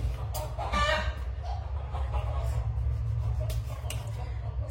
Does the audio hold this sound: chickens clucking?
yes